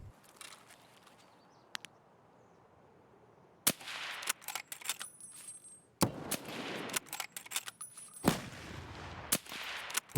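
Sharp, loud rifle gunshots in Escape from Tarkov, a raid firefight: after a quiet opening, volleys of close cracks come in bursts with brief pauses between them.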